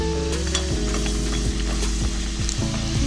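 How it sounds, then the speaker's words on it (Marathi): Sandge, sun-dried lentil dumplings, fry in very hot oil over medium heat, giving a steady close sizzle with a few soft stirring scrapes mixed in and no talk. "तेल एकदम कडकडीत तापवून घेतलं होतं आणि आता आहे ना मध्यम आचेवर सांडगे मी पूर्णपणे फ्राय करून घेतले"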